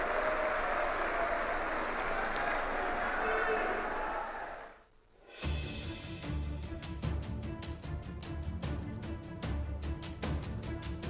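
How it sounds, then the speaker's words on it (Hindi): Applause from a large audience for Prime Minister Narendra Modi at an inauguration event, a broad, steady patter of clapping that fades out after about five seconds and gives way to rhythmic music. "जोरदार तालियों से आइए माननीय प्रधानमंत्री जी का आभार व्यक्त करें।"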